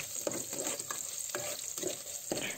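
Sliced onion and garlic sauté quietly in a pan for a macaroni soup, with a soft background sizzle and a few spaced spatula scrapes, close but low in level, and no voices.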